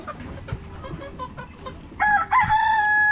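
A rooster crows loudly and close by in the second half, a sustained cock-a-doodle-doo that follows a stretch of quieter background sound, with no voices present.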